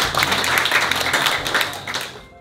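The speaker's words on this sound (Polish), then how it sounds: "Także gorące brawa dla grupy młodzieżowych." Warm applause from a crowd at a Christmas Eve gathering honouring a youth group, dense clapping that stays fairly loud before tapering off abruptly at the end.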